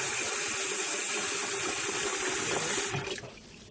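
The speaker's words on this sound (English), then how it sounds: "So I'm going to wash my kidney, then I'm about to season it." Beef kidney rinsed under a running kitchen tap, a steady close hiss of water pouring into the sink that cuts off near the end, leaving faint dripping.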